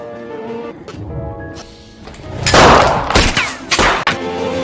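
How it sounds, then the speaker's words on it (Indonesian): Gunfire in a shootout between two soldiers in a war battle for a city, a cluster of loud bursts and cracks over a couple of seconds amid rumbling background, close and heavy. "Hingga akhirnya mereka berdua adu tembak."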